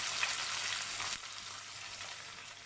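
Mint, coriander and onions fry in hot oil for a restaurant-style chicken gravy, a close, steady sizzle and crackle that drops slightly in intensity partway through as the pan is stirred, with no talking.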